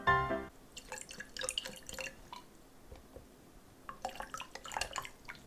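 Water splashing and dripping from a filled balloon into a glass or sink, in two bursts of trickling, splattering drops separated by a quieter pause, close and fairly soft.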